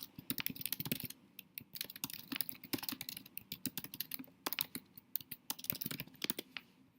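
Someone types a description on a computer keyboard, with rapid, irregular key clicks close by, continuous and alone.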